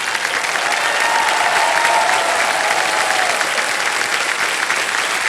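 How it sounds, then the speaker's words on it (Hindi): Loud, dense applause from a studio audience on a Hindi quiz show honouring young guests, a continuous even roar of clapping with no break. "इनके लिए मैं चाहूंगा कि एक बार जोरदार तालियां हो जाएं।"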